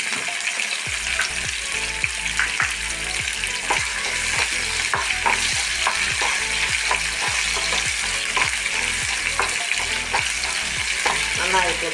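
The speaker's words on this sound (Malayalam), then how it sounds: "നന്നായിട്ട് ഫ്രൈ ആവട്ടെ." Green chilies and chopped ginger sizzle and crackle steadily in hot oil while being stirred for a curry leaf pickle, a dense continuous frying hiss with repeated scraping stir strokes close up.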